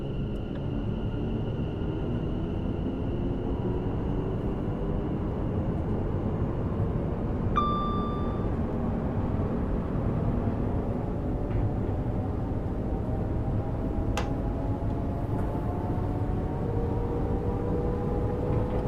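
An Elizabeth Line electric train in Train Sim World 6 hums and drones steadily as it pulls away from Paddington, with rising motor tones and a brief electronic chime midway. Fairly quiet, no talking.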